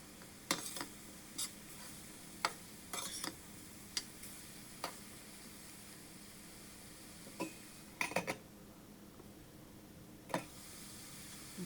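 A spoon stirs onions in a pan while carrot beetroot thoran cooks, making scattered sharp clicks and scrapes against the metal, some in quick clusters, over a faint sizzle.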